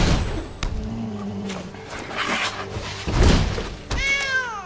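A cartoonish cat meow sound effect from the MTG Arena card game rings out in a game scene, clear and close, amid other game clicks and thuds.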